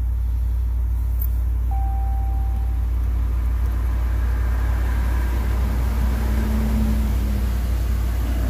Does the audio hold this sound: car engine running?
yes